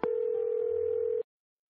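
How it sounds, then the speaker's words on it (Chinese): A telephone line gives a single steady electronic tone just over a second long, clean and loud, then cuts off abruptly into silence as a call is placed. "拨通了他的电话。"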